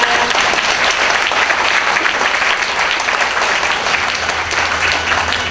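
An audience at an innovation relay event gives a big round of applause, a loud, dense and steady wash of clapping that carries on evenly for several seconds.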